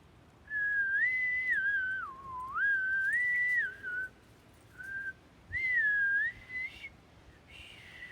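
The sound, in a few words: human whistling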